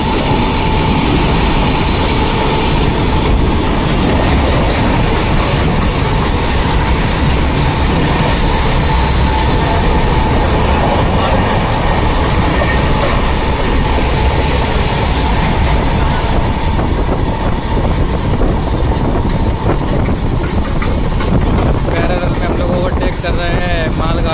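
Passenger train on the Delhi–Prayagraj Raksha Bandhan special service, running steadily at slow speed: loud continuous rail roar with wind buffeting the microphone throughout, and no clear talk.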